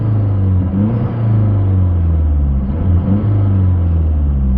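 A car fitted with new bolt-on engine and exhaust parts drives along with a loud, deep, continuous exhaust rumble that swells slightly as the revs rise and fall, heard from inside without speech.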